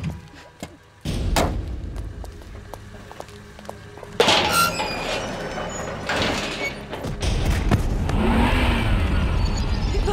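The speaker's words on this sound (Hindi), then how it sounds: "काका गाड़ी।" A car pulls up, its engine rumbling louder as it nears, followed by heavy door thunks and a loud rising engine noise, with bursts of clatter and thumps around it.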